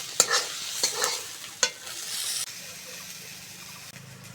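Garlic, onion, green chilli and tomato being stirred in a wok after frying, with scraping spoon strokes over a soft sizzle at close range, the clatter easing off toward the end.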